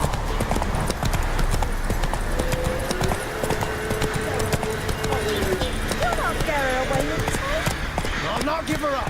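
Horse hooves clip-clop at a gallop in The Witcher 3, a fast steady rhythm of close, moderate hoofbeats running under game dialogue.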